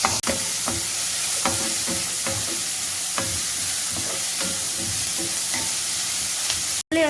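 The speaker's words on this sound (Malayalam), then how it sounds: "ഇനി നമുക്കിതിനെ വഴറ്റിയെടുക്കണം." Mushrooms, onions, slit green chillies and salt sautéing together in a pan, a loud, steady sizzle marked by rhythmic spatula strokes and a brief dropout near the end.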